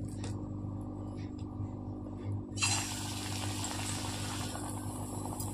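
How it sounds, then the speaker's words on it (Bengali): Pakoras go into hot oil in a home kitchen. After a quiet, humming start, a sudden loud sizzle and bubbling bursts in halfway through and keeps hissing steadily. "এবার আমি পকোড়াগুলো ভেজে নেব।"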